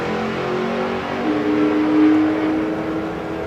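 A drag racing car rips down the strip at Santa Pod with a loud, sustained engine roar that rises and swells near the middle, heard from a distance with no talking over it.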